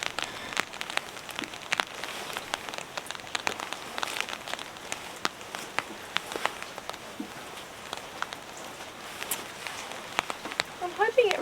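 Rain eases during a winter camping trip in New Zealand. Scattered drops tap and patter close by over a soft hiss, with irregular sharper drips throughout.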